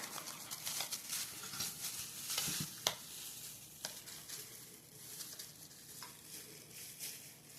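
Homemade garden salsa of freshly drained vegetables is stirred in a bowl, giving soft wet squelching and scraping strokes with a few louder clinks, fairly quiet and close with no speech.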